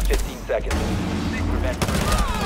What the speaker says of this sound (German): Die schießen rum.